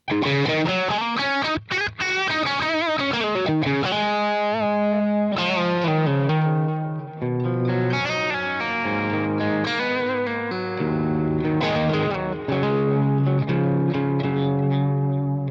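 Loud distorted electric guitar through an amp modeler, miked cabinet with a Shure 57 and Royer 121 ribbon mic, playing a riff of sustained chords and single notes, thick and saturated, steady throughout with no talking.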